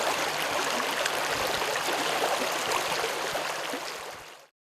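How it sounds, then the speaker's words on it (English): A waterfall stream pours steadily into a lake, a dense, continuous rushing wash of water at close range with no voices, fading out at the end. "The water of the falls stream down and feed the lake"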